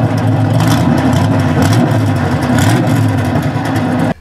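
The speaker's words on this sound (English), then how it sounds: "So this is actually the exhaust cutout. You can open up the valves so that it can be quiet, or just open header" A Corvette C3 V8 with its exhaust cutout open rumbles loudly up close, a deep throaty engine note with small throttle blips held steadily for about four seconds.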